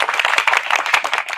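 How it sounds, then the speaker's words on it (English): Audience applause at a live Christian music event, a dense burst of many hands clapping close and loud, steady across the moment with no talk over it. "Everybody put your hands together again"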